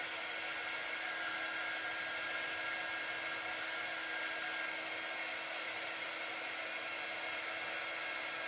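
A hair dryer blows a continuous, even whoosh with a high whine while drying a flower, steady and close throughout with no voices.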